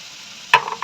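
Pabda fish rubbed with salt and turmeric drops into hot oil in a pan, giving a brief steady background hiss and then a sudden loud burst of sizzling that crackles on unevenly.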